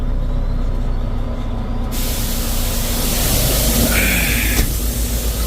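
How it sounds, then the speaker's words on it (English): A farm truck in a field releasing its air brakes, a sudden loud, broad hiss that bursts in after an idling engine rumble and keeps spraying steadily, with a brief squeal and a clunk near the end. "Start the truck up, dump the air."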